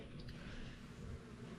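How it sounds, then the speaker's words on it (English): Flies buzz faintly around a filthy mini garbage truck after trash pickup, making a soft, steady hum that is quiet and continuous in a slightly echoing space. "you can see flies buzzing around"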